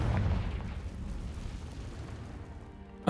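A Confringo fire spell bursts in Hogwarts Legacy, a low rumbling boom that rolls and fades over a few seconds, ending with a short louder thump.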